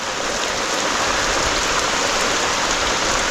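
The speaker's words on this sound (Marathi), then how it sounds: "बऱ्यापैकी चांगला पाऊस आला आहे" Steady monsoon rain pours down in the Konkan in a dense, even hiss, with no voices or breaks.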